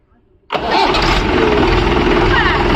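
A Mahindra 575 tractor's diesel engine cranks and catches after a self-starter motor service, going from near silence to a loud, close, steady rumbling idle that holds to the end.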